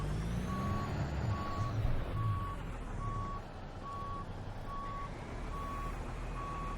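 A Peterbilt 377 semi-truck reverses in American Truck Simulator, its backup alarm beeping in a steady, evenly spaced rhythm over the low rumble of the idling engine.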